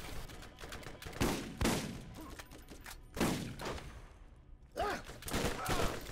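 Gunfire in the Borderlands video game, including a sniper rifle, crackles in repeated loud bursts and volleys across the clip, with brief gaps between rounds.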